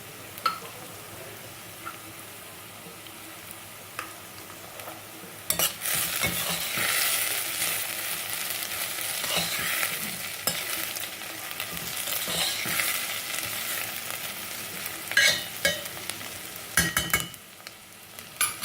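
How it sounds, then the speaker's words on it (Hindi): Onion with green chili and ginger sizzles steadily in a pan for Sindhi seyal bhaji, with a spoon stirring in scraping bursts that grow louder and busier after the first few seconds, close and without talk. "कांदा हमारा हल्का सा फ्राई हो चुका है। इसमें मिलाएंगे हम हरी मिर्च और अदरक।"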